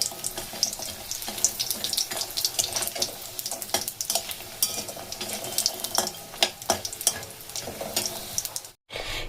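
Small lentil dumplings (bori) frying in hot oil for a village-style shukto, a dense close crackle and sputter with sharp pops throughout, alone, cutting off briefly just before the end.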